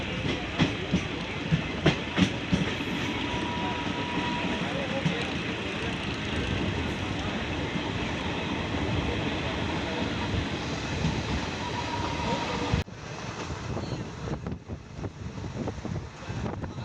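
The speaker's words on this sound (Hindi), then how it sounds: "तो ट्रेन चल रही है बाराबंकी जंक्शन की दिशा में।" Train running on the railway track near Rasauli on the Barabanki–Ayodhya line, a loud continuous rumble with rhythmic wheel clatter and wind buffeting the microphone, easing to a lighter rolling sound near the end.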